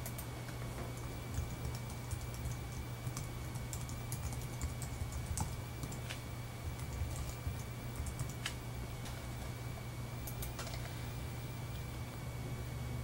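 Fingers tap a computer keyboard entering a username and password, a steady run of light, rapid key clicks close up over a low constant hum, with a few sharper keystrokes standing out.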